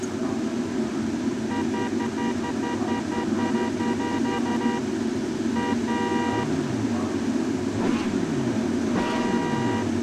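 Grid of 1975 Formula 1 cars in a racing video game firing up, a dense sustained engine roar with tonal pulses and rising revs sweeping across the field, continuous and loud throughout.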